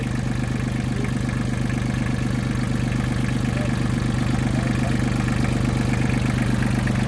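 A mini tractor's engine runs steadily at idle, a loud, close, even chugging with a fast regular pulse that holds unchanged throughout, with no voices over it.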